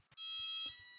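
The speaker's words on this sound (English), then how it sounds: "the ESC should give 2x2 beeps, indicating that calibration is finished" A brushless motor ESC gives a calibration beep, a single steady electronic tone that sounds faint but clean after a couple of soft clicks.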